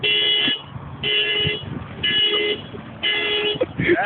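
Car alarm honking in a parking area, loud regular horn blasts about once a second with short gaps, close by, with faint background noise between blasts.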